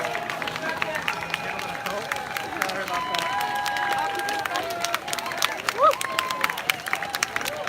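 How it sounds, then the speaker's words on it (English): Crowd of Black Lives Matter marchers in Tokyo shouting and cheering as relay participants finish their leg, a steady outdoor babble with scattered whistles and claps, voices mingling throughout. "people are shouting and cheering"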